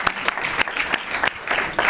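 A small school-board meeting audience gives a short round of applause for student vocal performers, scattered claps ringing out close together with a voice speaking through it.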